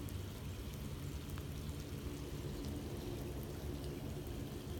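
Heavy rain pours down across a flooded yard and field in a constant dense hiss of drops, steady and unbroken, fairly faint and without voices.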